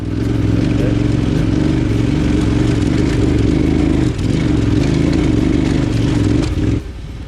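A KTM 990 Adventure motorcycle rides a rough forest trail, its engine a loud, steady mid-pitched drone with rattling clatter that dips briefly midway and drops off near the end.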